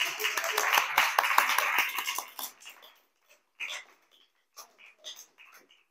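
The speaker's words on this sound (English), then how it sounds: "A little round of applause." A small audience gives a short round of applause, brisk clapping for a couple of seconds that fades into scattered claps, with voices speaking through the tail.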